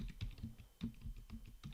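Quick typing of a search term on a computer keyboard, several soft, close keystroke clicks in an uneven rhythm, quiet and with no talking.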